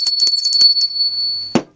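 A small figural lady bell whose legs serve as the clapper, rung with a quick flurry of bright metallic strikes and a sustained high ring that fades, ending in a soft clunk as it is set down.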